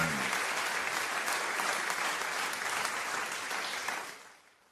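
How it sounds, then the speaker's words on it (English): A studio audience on a breakfast radio show applauds loudly and steadily with dense, continuous clapping that holds for several seconds, then tapers off toward the end. "a well-deserved round of applause from the breakfast show this morning"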